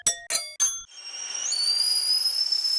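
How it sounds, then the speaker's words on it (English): Three short bright dings, then a steady high-pitched whistle that rises and holds, like a kettle coming to the boil, heard alone. "I added lots of kitchen-related effects, like teapot sounds"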